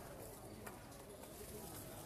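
Rare, high-quality pigeons cooing softly in the background, a low murmur running steadily under faint speech throughout.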